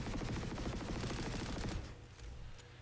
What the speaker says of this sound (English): This is aimed fire with no attempt to make any compensation for recoil.